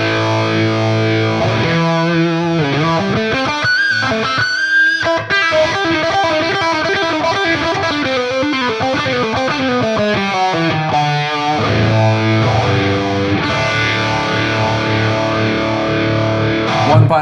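An electric guitar plays through a TONEX PRS Archon amp capture with a strongly set phaser and a standard room reverb, giving sustained distorted chords and lead lines that sweep and swirl for the whole passage, with no voice.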